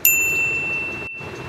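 A notification bell sound effect, a single bright ding that strikes at once and rings out with a long fading shimmer, alone and clear.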